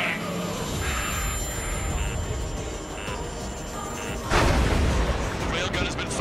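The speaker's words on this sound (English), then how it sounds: "The railgun has been fired." A railgun fires in the video game Ace Combat 7: Skies Unknown, a sudden heavy boom partway through that jumps above the steady rumbling game audio and faint radio-like voices.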